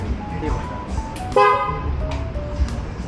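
A short, bright Vespa scooter horn toot sounds once up close amid traffic noise, with people talking nearby.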